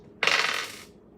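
Dice are rolled in a tarot reading, giving one short, bright rattling clatter that lasts under a second.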